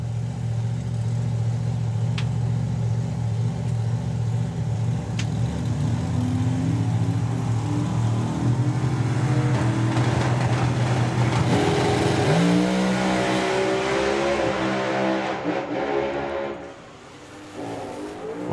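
Pro Modified drag race cars at a drag racing festival thunder down the strip, a loud sustained engine roar that builds and shifts pitch midway, then fades as the cars coast, with a brief drop near the end.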